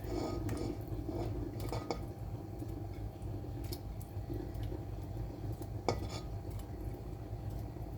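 Minced meat cooking in a pan on a home stove, with soft sizzling and scattered clinks of a utensil against cookware as it is stirred, close and fairly quiet with no talking.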